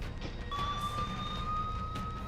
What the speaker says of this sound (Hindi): सुरक्षा बल की गाड़ियां सायरन बजाती हुई मौकाए वारदात की ओर रवाना होने लगी।